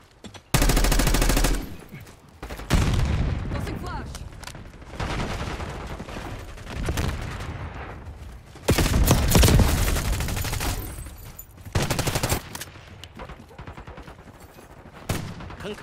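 Bursts of automatic gunfire from multiplayer combat in Call of Duty: Black Ops 6 come loud and close in several rapid volleys, with louder stretches near the start and middle and quieter game noise between them.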